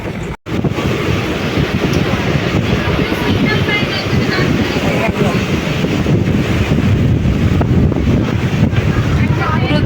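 A passenger train on the Tarakeswar to Goghat line crosses the Mundeshwari river, making a loud, steady rumble with heavy wind buffeting the microphone throughout.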